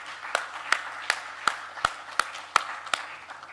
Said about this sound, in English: Please join me in a hearty applause to them.